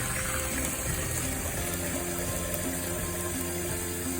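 Ordinary tap water running steadily into a home brew beer container, a constant close rush of filling liquid with no talking.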